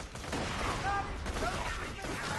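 Automatic Jakobs gun firing in quick succession in the video game Borderlands 2, a dense, sustained burst of gunfire with effects layered over game music.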